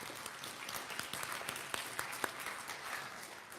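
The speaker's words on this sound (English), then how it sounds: "Big round of applause for all of you." Church congregation applause at a Sunday service, a steady wash of many hands clapping at moderate distance, fairly even throughout with a few sharper claps standing out.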